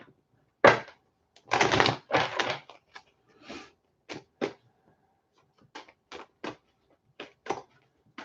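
Tarot cards being shuffled, a series of short crisp riffles and taps, close and distinct, with two longer bursts early followed by lighter scattered clicks.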